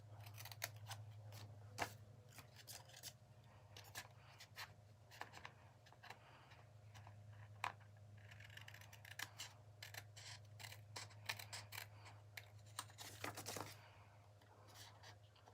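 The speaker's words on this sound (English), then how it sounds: "I'm using my ribbon scissors right now." Ribbon scissors snip through paper in a quick, irregular series of crisp close-up cuts over a low steady hum, with no talk.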